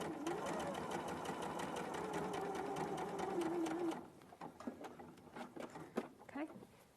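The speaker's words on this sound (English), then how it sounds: "then I'm going to carry on stitching to this point here" Domestic sewing machine stitching fabric: a steady, fast mechanical whir runs for about four seconds, then stops and gives way to a few scattered clicks and handling knocks, close by.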